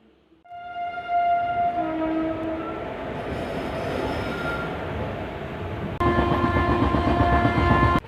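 A Humsafar Express passenger train pulls away from a stop, bound for Itarsi Junction: a long horn sounds, then steady rolling rumble and clatter build, with a second loud tonal horn blast near the end, close and unbroken.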